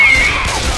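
A Hunter special infected in Left 4 Dead 2 lets out a short, loud screech that stays steady and forward for under a second, with no talk over it.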